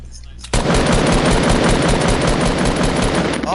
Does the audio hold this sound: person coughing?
no